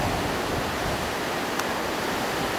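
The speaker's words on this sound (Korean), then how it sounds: "바로 눈앞에서 내리꽂히는 폭포수." Iguazu Falls roars close at hand as a steady, dense wash of crashing water, loud and unbroken throughout, with no voices over it.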